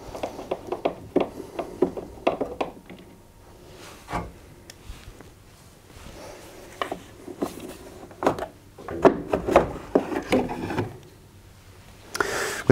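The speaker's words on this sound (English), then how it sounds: "The fan cover is held in by this one screw, which you can then undo and unhinge the fan cover." Unscrewing and lifting off the fan cover of a Zanussi tumble dryer, a series of close scattered plastic clicks, taps and scrapes with brief quiet gaps between handling noises.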